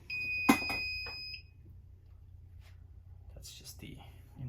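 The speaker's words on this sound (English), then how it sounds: "This is going to create some beeping unless I go to wall power" A Victron inverter beeps after losing power: two sharp, loud electronic tones in quick succession, then softer chirps over a steady low hum, with faint rustling and brief muffled talk later.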